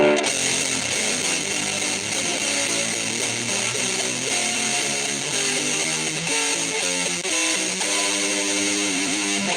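A heavily distorted electric guitar plays a continuous run of notes and bends, loud and sustained, with no voices.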